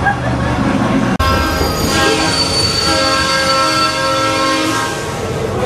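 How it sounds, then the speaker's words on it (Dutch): A train passing close by a scout camp near Joure in the Netherlands: a loud, sustained rumble with tonal horn-like and squealing wheel tones, opened by a sharp click and fading slightly near the end. "de trein komt zo meteen."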